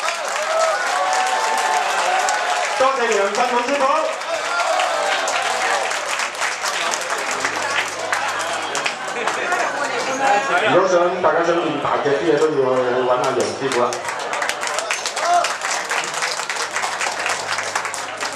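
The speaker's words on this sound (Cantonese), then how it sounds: "請大家俾多啲掌聲。" An audience keeps up steady applause after a praying mantis kung fu demonstration in Hong Kong, while someone speaks continuously over the clapping.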